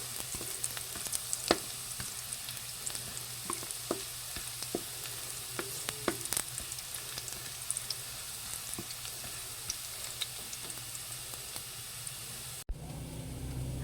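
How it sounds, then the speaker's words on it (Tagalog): Garlic and onion sauté in a pan for squash cooked in coconut milk, a steady close sizzle and hiss running throughout with scattered small pops and crackles, ending in a brief clatter. "bali ako po ay nagigisa na."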